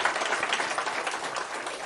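A crowd of guests applauds at the inauguration of a MassMutual office in Hyderabad's Financial District. Dense, steady clapping fills the whole stretch at moderate volume, a continuous wash of many hands with no voices on top.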